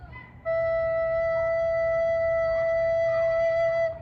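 A single steady recorder note, low and pure, held for about three and a half seconds without wavering.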